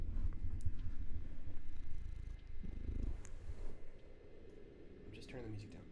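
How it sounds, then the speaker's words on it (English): A cat purrs up close in a steady, low rumbling drone that continues throughout, with some faint background sound behind it. "you're purring right now"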